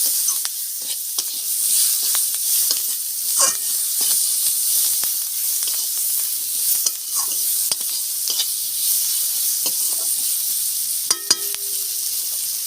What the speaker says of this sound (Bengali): অল্প তেল আছে আমি এই অল্প তেলেই পেঁয়াজগুলো দিয়ে দেবো